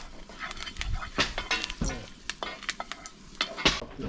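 Quail pieces fry in hot oil for a coconut-sauce dish, giving a close, crackling sizzle with sharp pops and spatters in uneven bursts, no voice heard.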